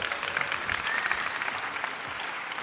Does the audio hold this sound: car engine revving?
no